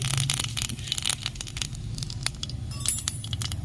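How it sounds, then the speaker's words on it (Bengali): Whole mustard and cumin seeds dropped into hot oil for tempering, crackling and spitting with sharp popping bursts close by, denser at the start and again near the end. "গোটা সর্ষে ফোড়ন দিয়ে দিচ্ছি জিরে ফোড়ন দিয়ে দিচ্ছি"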